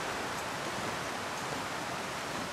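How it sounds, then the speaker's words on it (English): A waterfall in the survival video game The Long Dark gives off a steady broadband rushing roar. It is constant and fairly soft, with no voices. "Doesn't look like you can go behind this waterfall."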